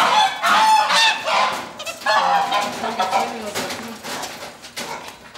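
Geese on a foie gras farm honk loudly and repeatedly in an overlapping, chattering flock, close by and continuous throughout.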